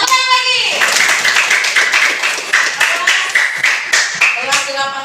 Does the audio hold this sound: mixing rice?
no